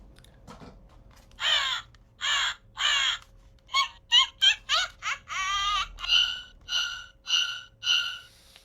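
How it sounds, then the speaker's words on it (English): Crow cawing from a Halloween sound-effect box, a run of about a dozen harsh raspy caws in uneven bursts, clear and fairly loud, with no talking. "Here's a crow, right?"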